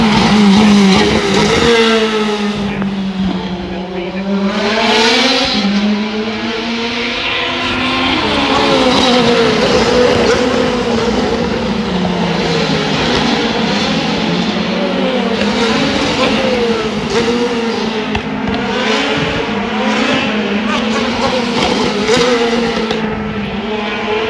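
Race cars roar around a track, loud engines rising and falling in pitch as they accelerate and pass in waves, one blending into the next without pause, with a voice speaking faintly beneath.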